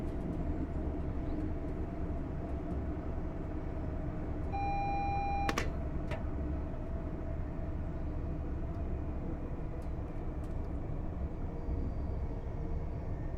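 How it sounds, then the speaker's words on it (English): A train slowing down in Train Sim World 4 on the East Coast Main Line, a steady loud rumble throughout, with a brief tonal horn-like beep and a sharp click partway through. "it takes a lot to slow this train down"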